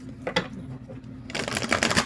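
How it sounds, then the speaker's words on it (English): Soft close-up shuffling of an oracle card deck, a quiet riffle followed by a brisker burst of papery flicking. "Now I will do my three cards or three shuffles that I always do"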